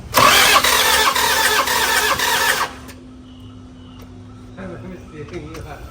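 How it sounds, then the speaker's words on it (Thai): A loud Toyota Vigo pickup truck engine cranks and catches, roaring up close for a few seconds before cutting down to a quieter background. "เอาคันนี้เดี๋ยวขอสตาร์ทเครื่องยนต์ก่อนนะครับ"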